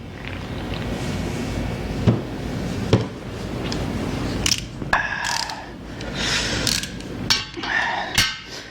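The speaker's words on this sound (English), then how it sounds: "we got the socket, and a big ratchet" A big ratchet with a socket tightens engine bolts during bottom-end assembly of a GM 8.0 engine, with repeated rapid clicking strokes in short bursts, close and fairly loud over a steady workshop hum.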